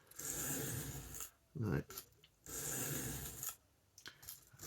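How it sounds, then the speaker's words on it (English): Aus8 steel on a battered Bob dozer knife is stroked over 400 grit sharpening stones, producing soft, repeated scraping rasps in bursts with short pauses between them, and someone speaks briefly. "These are 400 grit stones. That's all you're hearing."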